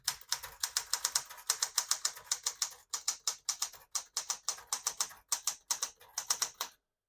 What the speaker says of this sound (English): I'll type a sentence on this next line.